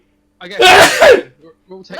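A single sharp sneeze bursts out close to the listener amid a casual tabletop game session, followed by a few quiet murmured words.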